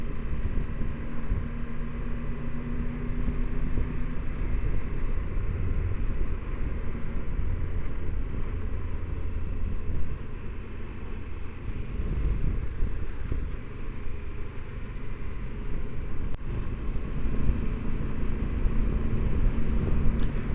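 A Mitsubishi L200 pickup on an Alpine mountain road gives off a steady low engine and road rumble from inside the cab, with light wind noise and no talking.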